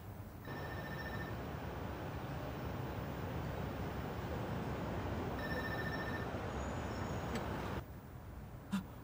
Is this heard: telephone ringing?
yes